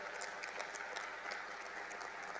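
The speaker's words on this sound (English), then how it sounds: "Let's give a round of applause." Audience applause at the India Japan Annual Summit, a steady dense wash of clapping from a large hall crowd, sustained and even throughout with no talk over it.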